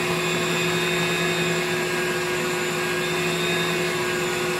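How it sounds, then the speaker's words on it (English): An electric mixer beats butter into a vanilla buttercream mixture, a steady, loud, continuous motor whir with a constant hum and no breaks or voices. "Now I just gotta beat the butter into the mixture"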